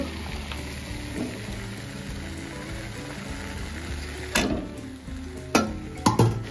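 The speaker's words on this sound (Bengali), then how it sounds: "ভালো করে আবার নাড়িয়ে নেব এইভাবে।" Chana dal halwa with sugar, grated coconut, raisins and cashews is stirred in a hot pan. A steady soft sizzle runs throughout, with a few sharper scraping strokes of the spoon near the end.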